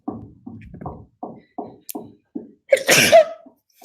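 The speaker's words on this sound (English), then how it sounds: "Oh my God, I have to sneeze" A series of short, breathy build-up inhales followed by one loud, sharp sneeze near the end, close up and alone.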